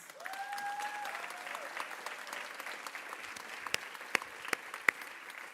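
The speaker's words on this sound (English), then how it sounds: "everybody should give her another round of applause" A lecture audience applauding steadily for several seconds, with a faint whistling tone early on and a few louder individual claps near the end.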